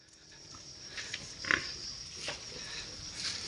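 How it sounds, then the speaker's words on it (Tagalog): A boar pig on a village farm grunts in a few short, rough bursts close by, with one louder grunt in the middle over steady background noise. "Ito yung barako."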